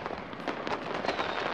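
Fireworks going off in Hitman 2016, a dense run of crackling bursts and pops close together, loud and continuous throughout, with no speech.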